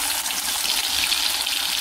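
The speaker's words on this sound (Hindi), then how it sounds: "तेल में करी पत्ता और जीरा डाल दिया है," Curry leaves and cumin seeds sizzle in hot oil while prawn kolhapuri masala is being cooked, a steady, close, even frying hiss that runs unbroken through the whole stretch.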